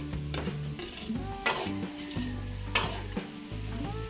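Onions and chorizo de Bilbao sizzle steadily in a pan, close and fairly loud, while a utensil stirs and scrapes the metal with several sharp clinks.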